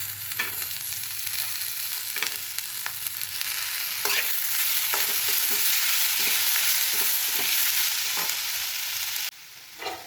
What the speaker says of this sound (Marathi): तर इथे आपला हा कांदा गुलाबी परतून झालेला आहे आणि त्यानंतर आपल्याला हा टोमॅटो त्यामध्ये शिजवून घ्यायचा आहे.